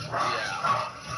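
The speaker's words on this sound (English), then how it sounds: "I don't wanna hear them dogs, bro." Dogs bark briefly at a distance, a couple of short yipping barks under faint background noise.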